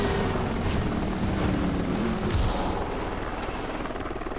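A helicopter in the video game Driver San Francisco drones steadily with a thudding rotor, continuous and close, with a couple of brief booming hits partway through.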